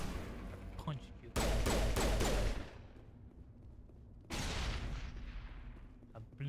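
A loud, booming blast from the video game Mass Effect erupts for about a second, fades into a rumbling tail, then a second heavy burst follows and trails off.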